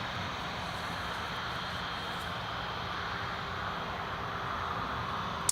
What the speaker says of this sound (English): that's the Eurowings just going to line up now on runway